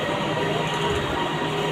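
A train rumbles at a crowded station during a holiday trip to KL, a steady, loud mechanical roar and clatter filling the platform.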